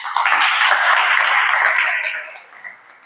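Audience applause in a classroom during a teacher-training fitness lesson, a burst of many hands clapping that is dense and close for about two seconds and then thins out and fades.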